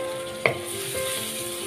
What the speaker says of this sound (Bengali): মশলাটা ভালোভাবে কষিয়ে নিচ্ছি যাতে মশলা থেকে কাঁচা গন্ধটা চলে যায়